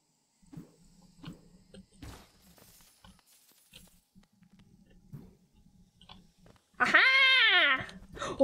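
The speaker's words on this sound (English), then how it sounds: "Oh, you're grabbing your leg, you silly kitty." A house cat lets out one loud, drawn-out meow near the end, preceded by quiet household thumps and faint rustling.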